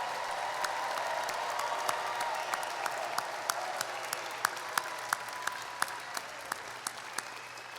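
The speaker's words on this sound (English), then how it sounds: "let's have one final round of applause recognizing the class of 2024" At a graduation ceremony, the audience gives a final round of applause for the class of 2024. The clapping is steady and fairly distant, with a few sharper individual claps standing out as it continues.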